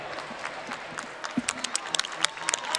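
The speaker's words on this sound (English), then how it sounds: "the crowd giving the boys a great hand" A crowd claps steadily at a boys' high school hockey championship game in an arena, with scattered sharp claps heard from a distance and no talk.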